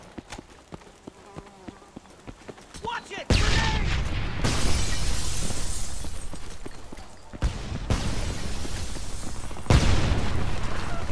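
Grenade explosions in a military video game, with a first stretch of game sounds and voice, then a sudden loud blast that rumbles and decays, followed by further heavy booming bursts.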